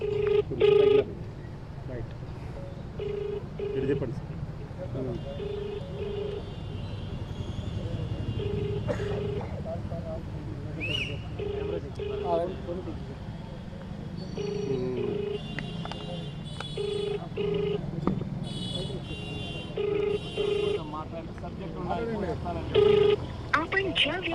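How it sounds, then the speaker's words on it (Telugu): An outgoing phone call rings through the handset, repeated ringback tones sounding in an even pattern over a low background hum. "ఇప్పుడు కూడా మళ్ళీ రామ్ గోపాల్ వర్మకు ఫోన్ చేస్తున్నాను"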